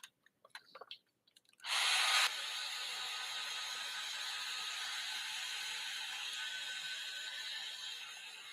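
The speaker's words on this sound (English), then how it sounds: "Let me give a quick dryer on it." A hair dryer drying a colored artwork commission switches on after a few soft clicks and handling taps, a sudden loud rush that settles into a steady whirring hiss and runs continuously to the end.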